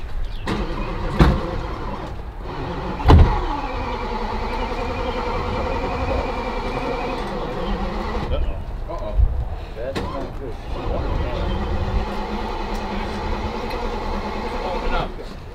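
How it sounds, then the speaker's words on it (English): A Lamborghini Aventador SVJ that won't start: several short, sharp cranking bursts separated by pauses over a low idling rumble from nearby cars, with people talking throughout. "what it sounds like when an Aventador SVJ can't start up, there it is"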